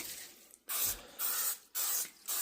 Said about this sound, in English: I'm just going to spray it with some butter flavored Crisco.